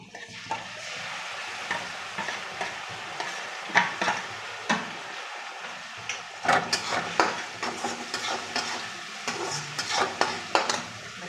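A ginger, garlic and onion paste fries in a pan, sizzling steadily while a spoon scrapes and stirs it in repeated close strokes.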